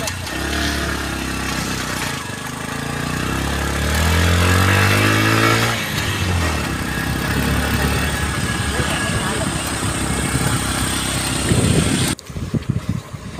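A motorcycle carrying four riders rumbles and revs up from a steady idle, with people talking over the engine noise throughout.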